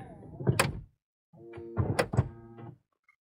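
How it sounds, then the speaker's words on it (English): A camper van door closes with two heavy thunks, the second a longer sliding rumble ending in a solid latch, followed by near silence. "close the door"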